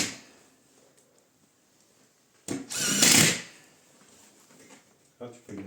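A power drill drives a screw into a metal rail in an attic conversion, a single loud whirring burst of about a second amid quiet room noise, with a brief clatter near the end.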